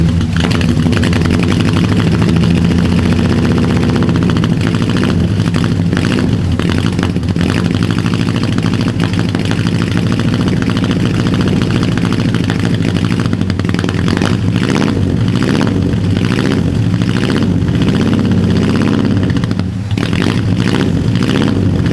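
A forgotten 1964 Ford Fairlane's engine runs roughly, a loud, continuous uneven rumble close by that sputters and surges irregularly throughout with no voices.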